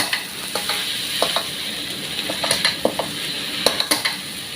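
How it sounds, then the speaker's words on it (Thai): Curry paste being stir-fried in a hot pan, a steady loud sizzle with repeated scraping clinks of a spatula against the metal, close and alone with no talk. "ผัดเครื่องแกงให้หอมๆพี่น้อง"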